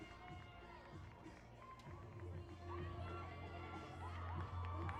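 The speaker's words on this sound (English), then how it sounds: "As the AFC and Arbor faithful cheering their team headed out onto the pitch." Fans of the AFC Ann Arbor women's soccer side cheer as their team heads onto the pitch for the second half against Union FC Macomb, a distant crowd roar that swells and holds, with scattered voices and shouts.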